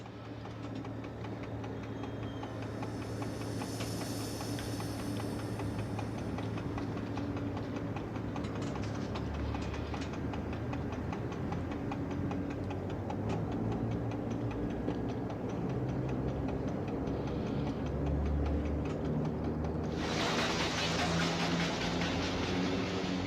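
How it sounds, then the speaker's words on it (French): Train 1001 rolling slowly through Saint-Sulpice-Laurière station, a steady low rumble with rhythmic wheel clicks over the rail joints, and a brief hiss near the end. "Le 1001 traverse la gare de Saint-Sulpice-Laurière au ralenti"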